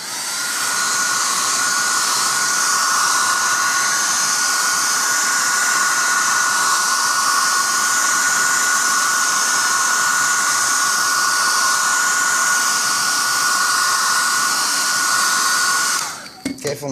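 Hot air gun heating vinyl wrap film: a loud, steady blowing whoosh with a constant high whine, running unbroken for about sixteen seconds before it cuts off abruptly with a few clicks.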